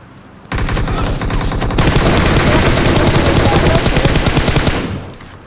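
Sustained automatic gunfire in a shooter video game: loud, dense bursts of rapid shots that start abruptly, carry on for about four seconds and then cut off.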